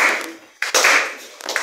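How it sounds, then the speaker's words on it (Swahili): A church congregation claps hands together, a few sharp bursts of claps close by with brief gaps between them, mixed with some voices. "Tupige makofi yetu."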